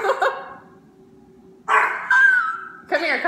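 A small dog indoors at the top of a staircase lets out a few short, sharp barks and a higher yipping whine, close and loud, with a person speaking just before and after.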